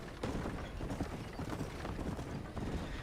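Horse hooves clip-clopping in the Red Dead Redemption video game, a busy, steady patter of several horses close by, alongside creaking and rattling of gear and carts, with no talk.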